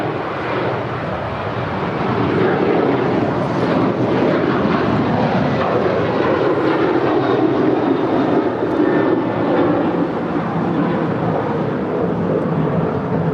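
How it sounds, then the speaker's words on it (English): United Airlines Boeing 737-900ER, seven years old, departing Los Angeles for Washington Dulles: a loud, steady jet engine roar with broadband rumble holding for the whole stretch, close and unbroken, with no voices. "1635 departing to Washington Dulles. It's a 7-year-old 737-900 ER."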